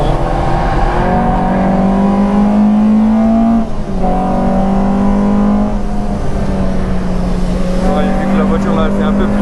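Peugeot race car engine lapping the Nürburgring Nordschleife, a loud continuous drone with shifting pitch that dips briefly mid-lap, heard close from onboard alongside road and wind noise.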